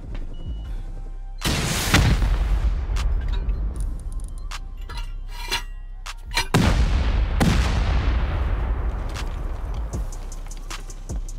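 Two big rocket explosions strike during a raid in a survival video game, each a loud, sharp blast that rolls off into a long rumbling decay, with scattered clinks and pops between them.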